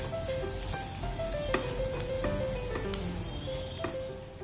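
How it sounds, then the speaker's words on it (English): Kachori filling sizzles steadily while roasting in a hot pan, a continuous close crackle with faint tonal music underneath. "Add the filling which we have mixed before. Roast it slightly."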